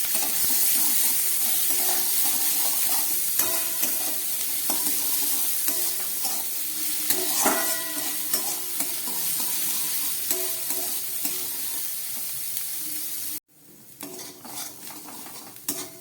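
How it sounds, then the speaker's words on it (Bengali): Green chillies and onions frying in a pan while being stirred with a metal utensil, steady sizzle with repeated scraping and clinking close by, then a quieter stretch near the end. "লঙ্কা পেঁয়াজটা অনেকটাই ভাজা হয়ে গেছে"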